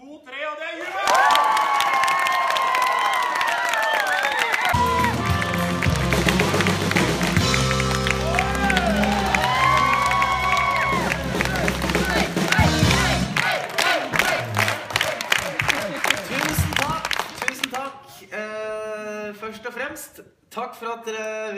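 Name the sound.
audience cheering, whistling and clapping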